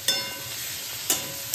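Green chillies frying in a pan, a steady soft sizzle with three sharp scraping stirs spaced across the moment, close and alone without talk.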